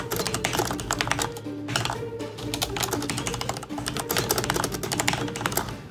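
Rapid, continuous typing on a computer keyboard, with dense clicking keystrokes and a few brief pauses, close and fairly loud.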